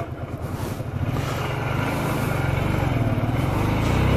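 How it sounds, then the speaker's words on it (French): A Honda Shadow 125 motorcycle that sat unused for two years runs at a steady idle close by, its low, even engine drone holding without a break and with no voices. "Bon, déjà le moteur tourne bien."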